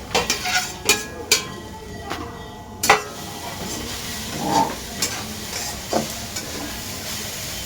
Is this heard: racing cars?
no